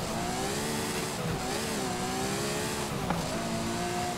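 A classic car's engine drones steadily in Forza Horizon 5, its pitch rising and falling through gear changes at close range, alone with no talk.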